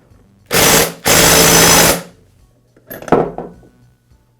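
An impact wrench fitted with a clutch tool drives a Poulan chainsaw clutch into place. It gives two loud, close bursts of rattling hammering, then a shorter, weaker burst with metallic clinks.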